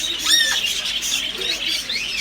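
A bird in Ankara, Turkey, squawks and chirps in several harsh, fairly close calls, some rising and some falling in pitch.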